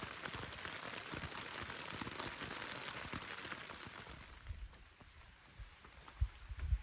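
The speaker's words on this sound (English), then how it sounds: "it's been steady rain since 9 for the last 5 hours" Steady rain falls on a tent in the woodland wilderness of Woodland Caribou, a soft, constant hiss of drops that is faint and even throughout, with a few louder thumps near the end.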